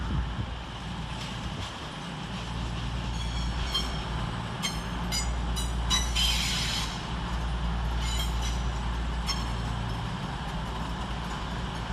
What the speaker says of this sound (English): Arriving to terminate with an East Midlands Railway service off Cricklewood A to E sidings under the head code 5 Foxtrot 37 is 22103